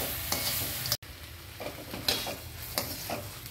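Carrot and brinjal being sautéed in a pan for chutney, a steady close sizzle with scraping stirring strokes, briefly cutting out near the start, with no voices.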